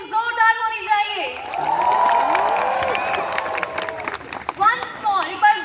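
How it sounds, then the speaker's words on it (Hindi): Audience at Rashtrapati Niwas, Shimla, waiting for a performance, breaks into loud clapping and whooping hoots that swell for a few seconds. A voice speaks before and after the cheering. "एक बार तालियां और हूटिंग जोरदार होनी चाहिए"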